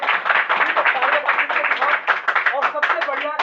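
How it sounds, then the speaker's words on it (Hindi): Audience clapping at a Safe Shop business training session in a hall: dense, steady applause from many hands that runs the whole time, mixed with voices speaking over it. "जोरदार ताली होना चाहिए।"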